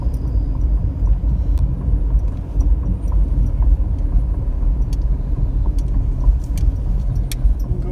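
A car driving along a residential street after wind damage and swinging around to head back, with a steady low road and engine rumble that stays close and even throughout, plus a few small rattles.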